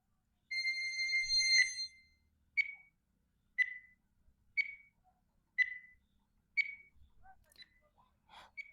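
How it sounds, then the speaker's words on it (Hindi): Quiz countdown timer: a long electronic tone opens, followed by five short, evenly spaced beeps about a second apart, then a few fainter chirps at the end, heard alone without talk. "टाइमर मैं स्टार्ट कर रहा हूँ।"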